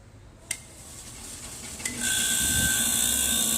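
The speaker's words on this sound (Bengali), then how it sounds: "এখন কম্প্রেসারের মেকানিক্যাল খারাপ কিনা তা চেক করার জন্য এখানে কাটলাম, চালু করলাম" Faulty refrigeration compressor switched on after its line is cut, with two sharp clicks followed by a loud, steady hiss and a whining tone, alone without talk.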